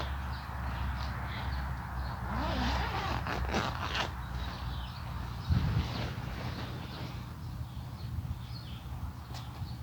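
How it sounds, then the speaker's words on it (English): The zipper of a cheap $15 pop-up dome tent is drawn along in several short rasping pulls, close by, amid rustling fabric and faint background noise. "Let's zip this up here and see how well the zipper works."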